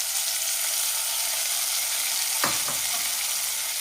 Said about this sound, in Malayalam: കടുക് വറുത്തത് പച്ചടിയിലേക്ക് ചേർക്കാം